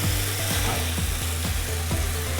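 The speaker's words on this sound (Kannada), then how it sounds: "ಇವಾಗ ರುಬ್ಬಿಟ್ಕೊಂಡಿರೋಂಥ ಮಸಾಲೆ ಹಾಕೋತಾ ಇದ್ದೀನಿ." Ground coconut masala hits hot oil for a bitter gourd gravy, giving a steady, close, broad sizzle with a faint repeating scraping tick underneath; no talking.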